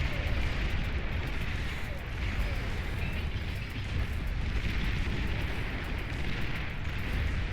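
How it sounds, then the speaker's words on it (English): Continuous rumbling barrage of artillery fire and explosions in the strategy game Beyond All Reason, a dense, steady wash of booms with a commentator talking over it. "this artillery still shooting over here on the left completely aimlessly"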